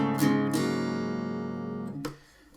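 An acoustic guitar plays a strummed passage from a song, a few ringing chord strums with note changes, close and clear, then a final strum that is quickly muted.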